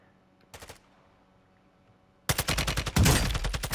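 Automatic gunfire in Call of Duty: Warzone: a short, faint burst of rapid shots early on, then a loud, sustained string of rapid shots that closes the stretch. No one speaks over it.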